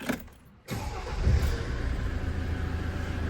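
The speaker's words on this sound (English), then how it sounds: "And I'm just going to start the engine." A 2011 Land Rover Defender 90 starts: a brief cranking burst, then the engine catches and settles into a steady, close idle.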